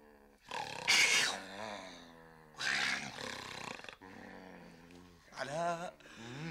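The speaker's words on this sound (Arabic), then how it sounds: "شلون بدي نام وهالتراكتور عم يشخر جنة؟" A man's heavy, loud snoring likened to a tractor, three long rasping roar-like bursts spaced a couple of seconds apart, close and dominant with no talk over them.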